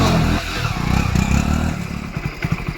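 A motorcycle engine starts after the bike is push-started, giving a loud close rumble that settles into a quick, uneven putter near the end.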